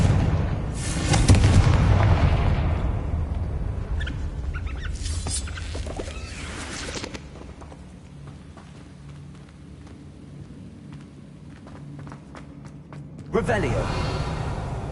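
Confringo blasting spells from Hogwarts Legacy go off as deep, rumbling booms, with a heavy blast at the start, another in the middle and a sharp one near the end, amid game ambience and a voice speaking.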